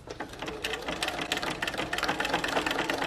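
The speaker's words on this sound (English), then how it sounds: "Don't forget to drop your presser foot back down and continue to sew." A sewing machine stitching through a thick poof or beanbag slipcover runs steadily for several seconds, a close, rapid mechanical chatter with an even rhythm and no talking.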